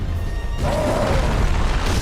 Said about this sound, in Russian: Я ж петарды нажимал.